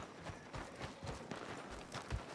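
Coach horses in Red Dead Redemption 2 clip-clop at a quick, steady trot, their hoofbeats faint and somewhat distant in a soft ambient mix with no talking.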